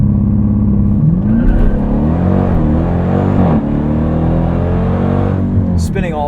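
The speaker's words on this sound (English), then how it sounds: "Well, we've got to do launch control, so let's just knock that out. It's going to be uphill." A 2023 Dodge Durango SRT Hellcat launches uphill with launch control, its supercharged engine roaring loud and climbing through the revs with a brief dip at a gear change, someone talking over it.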